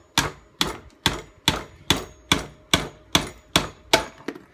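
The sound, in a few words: screwdriver driving pin out of Hayward multiport valve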